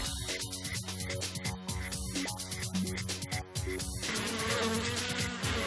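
Bees buzzing steadily during a honey harvest, a dense insect hum that stays loud and continuous throughout, with no talking.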